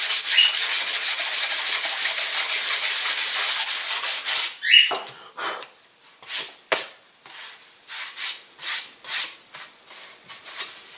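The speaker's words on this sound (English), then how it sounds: "I guess also should sand the lower side a little bit, underside, yeah, bottom, something like that." Sandpaper rubbing against the balsa underside of a model glider wing: a steady stroke for about four seconds, then a string of short, separate scrapes near the mic, with no talking.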